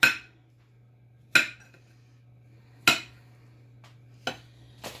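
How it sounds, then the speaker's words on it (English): A knife cuts up cauliflower on a board, making four or five sharp, close chopping knocks spaced about a second and a half apart, with a faint steady hum underneath. "So I'm just cutting up this cauliflower."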